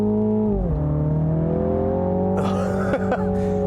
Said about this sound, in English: what you hear mostly is just a fake induction sound that's being amplified through the speakers